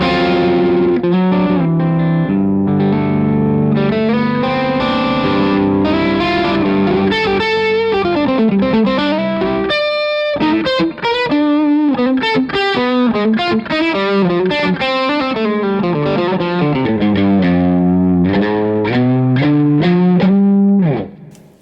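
Electric guitar played through a Catalinbread Epoch Bias boost feeding a Golden Boy boost pedal, a bright, sparkly, overdriven tone with sustained chords and melodic lines ringing continuously and loudly, with no talking.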